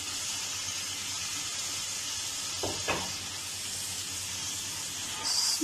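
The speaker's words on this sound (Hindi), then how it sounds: "तो अब हमने ये जो चिकन फ्राई करके रखा था वो डालेंगे।" Fried chicken dropped into a sizzling Kashmiri masala gravy gives a loud, steady frying hiss throughout, with a short clatter of the pieces going in partway through.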